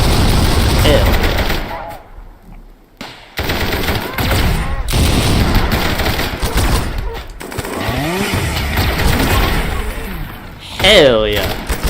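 Heavy machine gun fire in the colony-combat game RimWorld: dense rattling bursts under near-continuous excited talk, with a brief lull midway.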